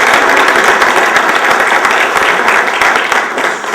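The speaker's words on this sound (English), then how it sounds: "So give Alan a little bit of round of applause." Loud, close applause from an audience at a talk on pensions, brisk crowded clapping with distinct individual claps sustained for a few seconds before dipping slightly at the end.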